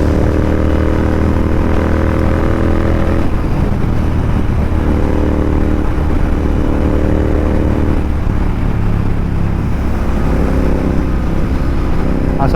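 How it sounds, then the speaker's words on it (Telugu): A Royal Enfield Interceptor 650 motorcycle's exhaust drones steadily and loudly while the bike is ridden, with continuous engine rumble, wind and road noise filling the whole stretch and no talk. "ఎగ్జాస్ట్ సౌండ్ నేను ఎంజాయ్ చేయండి"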